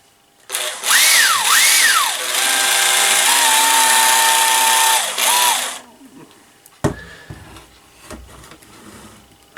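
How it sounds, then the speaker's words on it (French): A Makita cordless drill fitted with a modified lithium-ion battery runs free with no load in loud whining bursts that rise and fall in pitch over several seconds, stops, and is followed by quieter handling clicks. "on termine avec un dernier essai à vide avec la perceuse et la batterie modifiée"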